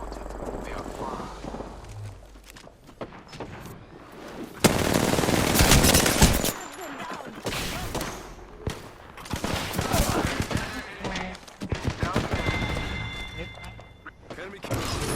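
Rapid automatic gunfire in the video game Apex Legends, with bursts and sustained fusillades mixed with thuds and shield effects, loud and dense throughout, with voices talking over the shooting.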